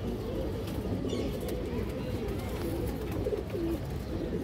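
Pigeons coo softly in low, throaty murmurs at a bird market where a black-necked pigeon is on show, the cooing running steadily under a dense background hum of flock sounds.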